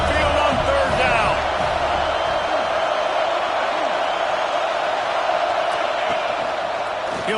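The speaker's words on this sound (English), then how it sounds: "The Tide crowd roaring noise down onto Saban Field on 3rd down." A packed Alabama Crimson Tide football crowd roars steadily on third down during a Georgia vs Alabama game at Saban Field, a dense, loud wall of stadium noise that holds from start to finish.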